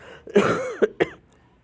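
A few close coughs: a rough, drawn-out one followed by two short, sharp hacks, then quiet.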